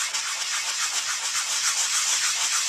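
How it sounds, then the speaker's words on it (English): Steady, close scraping of a sanding block rubbed hard across embossed paper to raise a flower design, a continuous abrasive hiss heard alone with no talk. "this one we have to sand a little bit harder to get that flower to come out."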